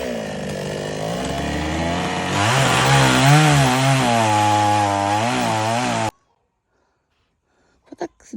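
An electric saw cuts through wood with a loud, droning buzz whose pitch sags and wavers under load, then cuts off abruptly into near silence, followed by a few faint ticks.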